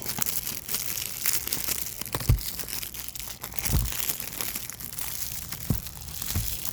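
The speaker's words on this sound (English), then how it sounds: "Alright, so I took the plastic off, and I'm going to check inside." Plastic shrink wrap crinkles and tears off a Nintendo Switch game case, a steady close crackling with a few sharper rips and crunches, no talking.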